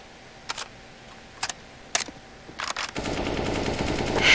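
Gunfire in Counter-Strike: Global Offensive comes as a few separate short bursts spaced about half a second apart, then gives way to a louder, steady wash of game noise near the end.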